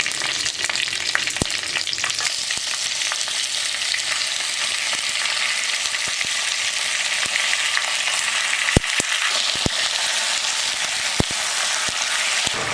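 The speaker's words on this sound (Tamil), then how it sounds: "சிக்கன் வந்து எண்ணெயிலே நல்லா வதங்கணும்" Chicken frying in hot oil with curry leaves and dried red chillies, a loud, dense, continuous sizzle with occasional sharp crackles and pops, close up and with no voices.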